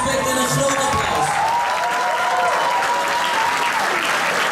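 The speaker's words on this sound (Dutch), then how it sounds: "Jullie verdienen onze respect en een groot applaus." Audience applauding women fighters after a Power Women fight bout, steady dense clapping throughout with faint crowd noise and a tonal announcement-like sound above it.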